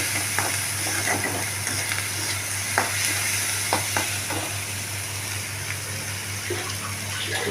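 Spices with dried chilli powder sautéing in a pan for chana dal, a continuous close sizzle with scattered scraping and clinks from stirring, over a low steady hum.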